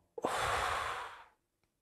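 A single deep breath, a long airy exhale of about a second, close and clear in a quiet room.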